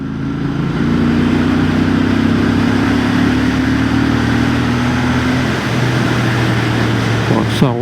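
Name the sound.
Royal Enfield 650 Bear motorcycle engine riding in 4th gear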